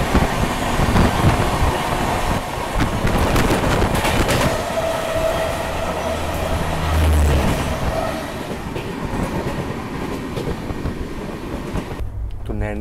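The New Delhi–Ranchi Rajdhani Express runs at speed past Prayagraj while overtaking another train, giving a steady loud rumble with rhythmic wheel clatter and a faint squeal, ending in a sharp rattling burst near the close.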